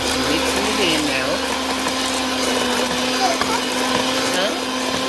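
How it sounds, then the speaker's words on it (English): An electric mixer whirs steadily at high speed, blending brown sugar into oatmeal raisin pecan cookie dough, a continuous close motor drone with faint voices in the background. "We just put the brown sugar in, and so she's mixing it in now."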